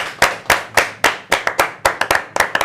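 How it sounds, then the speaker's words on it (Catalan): About a dozen close, sharp handclaps ring out in a steady rhythm that quickens slightly toward the end, with no other sound between them. "Aplaudiment general i genèric."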